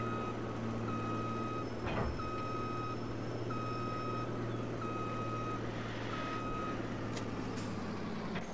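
A Warrior Plus logging truck in Farming Simulator 22 sounds a steady run of evenly spaced reversing beeps over a low droning engine, with a brief air-brake-like burst partway through and no talking.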